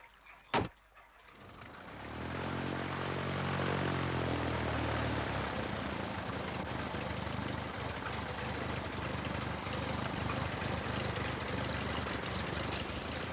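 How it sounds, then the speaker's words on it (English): A small propeller float plane in Alaska's Prince William Sound starts up and drones steadily, its engine roar rising after a brief click and then holding loud and close. "the ubiquitous float plane."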